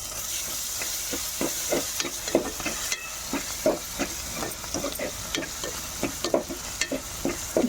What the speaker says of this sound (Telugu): ఇప్పుడైతే అల్లం వెల్లుల్లి పేస్ట్ అయితే పచ్చివాసన పోయేలాగా మనం అయితే ఫ్రై చేసుకోవాలి